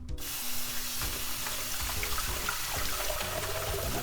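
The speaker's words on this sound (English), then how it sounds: "Then I'm going to cool this with cold running water." Cold water from a tap runs steadily over cooked udon noodles in a kitchen sink, making a continuous bright splashing hiss that stays fairly close and even throughout.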